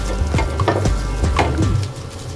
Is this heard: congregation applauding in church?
no